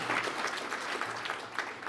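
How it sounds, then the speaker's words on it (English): Audience applause at a national safety awards gala luncheon for the winners and finalists, a steady dense wash of clapping filling the whole stretch at an even, moderate level with no voices. "One more round of applause, please, for all our winners and our finalists so far"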